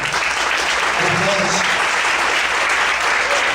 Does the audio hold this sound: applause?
yes